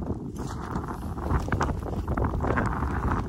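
Steady wind blows outdoors in snowy weather where fishermen sit on the ice, roaring continuously and buffeting the microphone, with no voices.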